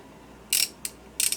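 Armstrong 11-994 3/8-inch flex locking head ratchet being worked by hand, giving three short, crisp bursts of metallic clicking, close and fairly loud against a quiet background.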